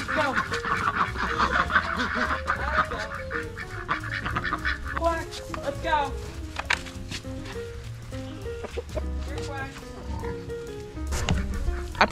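Ducks and geese on a farm in spring call with overlapping honks and quacks, close and fairly loud, mixed with background farmyard noise.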